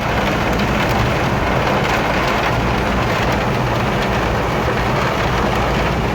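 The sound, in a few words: heavy rain falling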